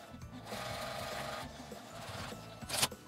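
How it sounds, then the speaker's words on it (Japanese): Sewing machine stitching along the closed edge of a small fabric card case, a rapid mechanical chatter running close and steady, pausing briefly and ending with a sharper clatter, with no speech. "確認して大丈夫そうならこの開き口を閉じて端ミシンをかけます。"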